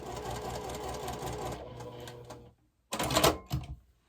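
A sewing machine stitches a line across a quilt block in a steady run of about two and a half seconds, then stops and restarts with a shorter, louder burst. It is close and clear, with no talking.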